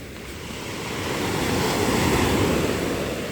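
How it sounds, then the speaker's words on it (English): Beach waves break into a steady, broad surf roar that gradually swells, with some wind noise and no voices. "You have reached 3 minutes of beautiful wave sound effects"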